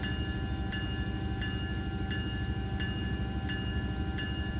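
A 16,000-ton freight train hauling chemical tank cars rolls steadily on the rails, heard from the cab as a constant low rumble with evenly spaced metallic clicks from the wheels passing rail joints.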